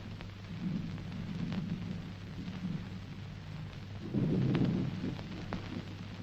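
Steady rain hisses throughout with low rumbles of thunder, one heavier roll swelling midway, in a 1983 Hindi film scene with no voices.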